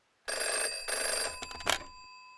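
A telephone bell rings loudly in a few sustained bursts, close and alone with no talk, set up as a phone call between a Canadian prime minister and a US president.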